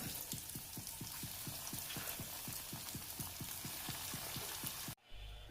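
Banana snack pieces frying in hot oil, a steady crackling sizzle with regular bubbling pops that runs close and even for about five seconds, then cuts off abruptly.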